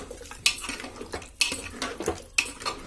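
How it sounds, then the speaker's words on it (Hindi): A metal spoon scrapes and clatters in a pan as ginger is stirred and fried for aloo tamatar, with repeated sharp knocks against the pan over a faint sizzle, close and alone. "अब मैं इन्हें अच्छी तरह से भून लूंगी।"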